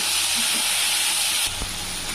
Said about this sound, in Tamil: ஒரு 2 நிமிஷம் இதே வதங்குதுங்க.